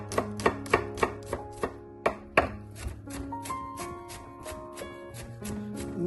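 Knife chopping garlic into small pieces on a board for vegetable noodles, with a quick run of sharp, close taps at the start, then a couple of isolated cuts, while background music plays throughout.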